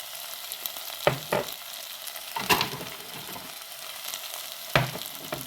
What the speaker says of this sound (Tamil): இப்போ எங்களுக்கு கத்தரிக்காய் நல்லா அவிஞ்சி வந்துட்டு நல்லா வதங்கி